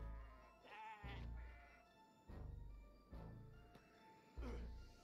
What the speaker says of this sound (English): I think the goats want to kill him.